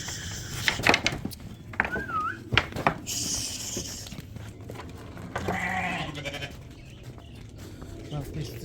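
Sheep bleat several times in a livestock pen, with close, wavering calls heard between stretches of people talking nearby.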